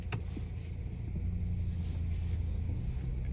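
A GWM Tank 300 Ultra SUV on a road test, heard from inside as a steady low engine and road rumble that holds even and continuous throughout, with no talk.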